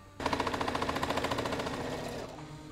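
A Brother ST150HDH heavy-duty sewing machine stitches through 16 layers of material in one close, fast, rapid-fire burst of needle strikes that eases slightly toward the end, with no voices.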